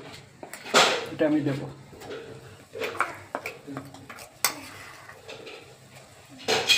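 Ground spice paste goes into a cooking pot for a mustard, poppy seed and coconut fish curry, heard as uneven clinks, scrapes and knocks of utensils against metal with a voice talking over them.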